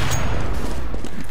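Gunfire in a competitive shooter video game tournament match sounds as a loud, dense burst of rattling shots and booms that continues through the whole brief moment.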